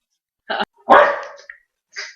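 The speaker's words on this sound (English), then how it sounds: "I can't have barking in the middle of my singing." A dog barks three times nearby: a short yap, a louder drawn-out bark, then a brief final one.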